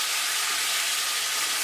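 A paste of onion, tomato, ginger, garlic and green chili sizzles steadily in hot oil for a potato and pea curry, a constant bright frying hiss heard close up with no talking.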